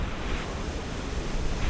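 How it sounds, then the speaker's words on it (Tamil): Strong wind gusts across the top of Kondarangi hill, a sacred rocky peak, roaring loud and steady close to the microphone with no voices. "வந்து காற்று எப்படி அடிக்குது பாருங்க."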